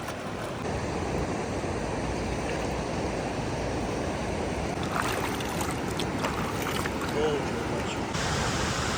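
A forest stream rushes in heavy monsoon rain in the Dang forest of Gujarat, a loud, steady wash of water that fills the whole stretch without a break.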